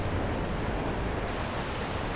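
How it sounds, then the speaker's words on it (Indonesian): Steady roar of ocean surf at a beach in Bengkulu, Sumatra, Indonesia, broadband and continuous like dense waves washing in, with wind hiss over it and no voices. "Ini ombak lebih besar ya daripada kayak yang di Bali"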